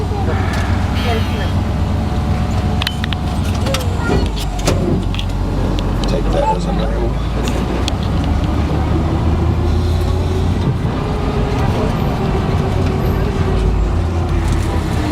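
An amphibious Ride the Ducks tour vehicle in Branson rumbles steadily as it drives into a lake, its engine and water noise constant and close throughout, with people talking over it.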